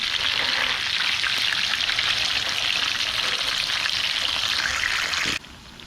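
Plantain chunks that were pre-cooked and squashed sizzle again in a hot pan, a steady dense crackle and hiss running without a break, then dropping off suddenly near the end.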